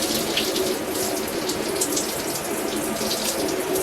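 Tap water runs in a steady, close hiss and splash as hair is rinsed beneath the stream, with no talking.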